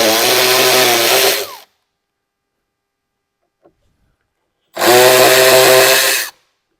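A power driver spinning out two 7mm screws from an old Ford truck door, two loud close bursts of high motor whine, each lasting about a second and a half, separated by a quiet gap, with no talking.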